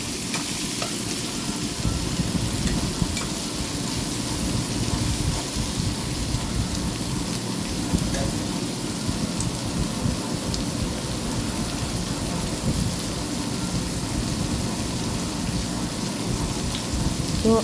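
Onion and shrimp fry in oil with turmeric, giving a steady, close, continuous sizzle with scraping stir sounds throughout and no talking.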